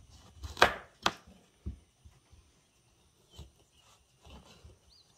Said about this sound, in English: I'm gonna cut the squash